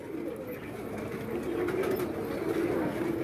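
A prized striped pigeon coos steadily in a low, continuous murmur, fairly close and alone without talk, with a soft rumbling roughness throughout.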